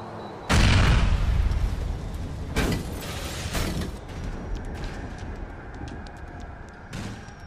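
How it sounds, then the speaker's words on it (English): A bomb detonates in the video game GTA IV, set off in a garage during a mission: one sudden loud blast followed by several rumbling secondary booms and crackling debris, fading out over a few seconds. "trigger the bomb"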